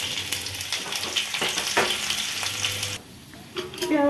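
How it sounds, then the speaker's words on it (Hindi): Garlic frying in hot oil for a masoor lentil tempering, a steady close crackling sizzle with stirring scrapes, dropping quieter near the end before flaring again. "तेल गर्म हो गया। इसमें पहले थोड़ा सा लहसुन डाल देती हूँ।"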